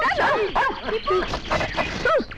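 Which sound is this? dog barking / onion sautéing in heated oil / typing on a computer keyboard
dog barking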